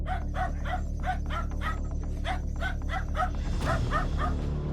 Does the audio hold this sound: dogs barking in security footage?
yes